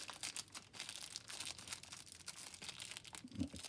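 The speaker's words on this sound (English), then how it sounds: "Feet comes wrapped in a plastic bag." Crinkling plastic bag handled close up, a continuous rustle of crackles and scrunches with no talking.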